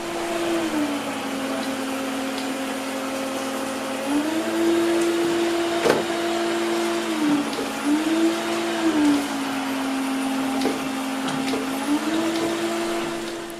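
A Midea M7 Pro robot vacuum cleaner runs with a steady motor whine that repeatedly steps up and down in pitch, joined by scattered bumps and clicks as it moves, close by and with no talking.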